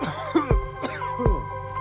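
Three sharp, close coughs from a patient during a medical examination in quick succession, each a short throaty burst with a brief pause between them.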